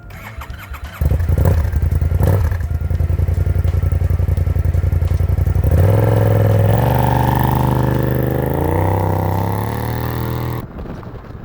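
A Kymco AK 550 scooter on a test ride starts up, then accelerates hard, its engine note climbing steadily in pitch. The sound is loud and close, with no talking.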